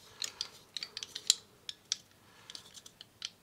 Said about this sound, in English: So you gotta remove the thread protector before you can get the barrel out.